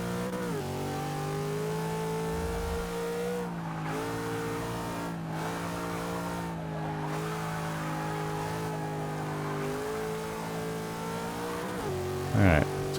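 A Subaru 22B race car in Forza 6, running a Class B Speed League race: its engine drones loud and steady, pitch climbing and dropping through gear changes, with a short tire squeal near the end.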